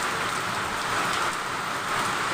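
Heavy rain pours down in a dense, steady hiss that stays loud and unbroken throughout, with no voices.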